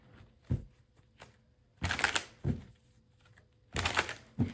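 Tarot cards riffle-shuffled by hand in a quiet room, two longer bursts of rapid flapping with a few soft single taps and thumps between them, close and clear with no talking.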